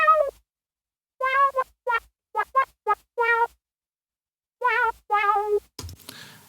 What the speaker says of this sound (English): there's that lead I made with my MicroKorg